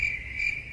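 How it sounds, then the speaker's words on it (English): A single cricket chirps in a brief, steady high trill, fairly close and clear against quiet low background rumble. "Just crickets?"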